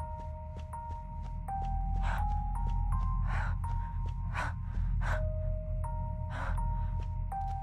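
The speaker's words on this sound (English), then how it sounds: "That's me breathing, right?" A character's breathing in the psychological horror game Master Reboot: a run of sharp, gasping breaths repeated in uneven bursts over steady tonal game music, with no talk.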